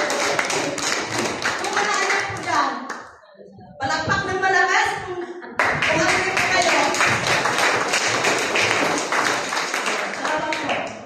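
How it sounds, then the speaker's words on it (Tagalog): A Sunday church congregation, mothers and children, claps loudly during a sermon: dense, rapid, close applause that breaks off briefly and then resumes even stronger. "Kung mga anak po dyan, palakpak ng malakas"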